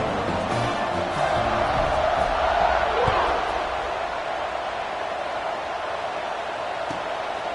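Stadium crowd in a Madden football game keeps up a steady, broad roar at moderate level throughout, with no voices rising clearly above it.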